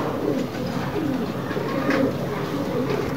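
Pigeons coo softly amid a busy outdoor wash of noise, the low burbling calls repeating under steady background din.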